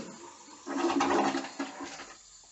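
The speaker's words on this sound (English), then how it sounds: "changing your toilet refill valve when it's not shutting off, not filling up with water, and has a consistent noise that just won't stop" A household toilet runs continuously because its refill valve won't shut off, giving a steady rushing hiss of water that swells louder mid-clip and then eases, with no talking.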